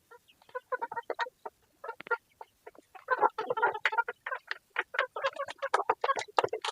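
Backyard hens raised by a child cluck in quick, irregular bursts, several birds clucking close by, with short pauses and overlapping calls and no one speaking.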